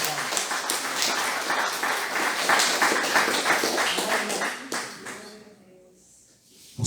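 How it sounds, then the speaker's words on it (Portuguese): A church congregation claps together in dense, sustained applause for about five seconds, loud and steady, then it tapers off into near quiet with faint room noise. "Vamos dar uma salva de palmas."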